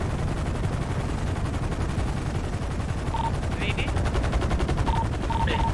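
Rapid, continuous bursts of automatic gunfire from a police raid on a favela in an online shooter game, dense and loud throughout, with a few short electronic beeps and players talking over the shooting.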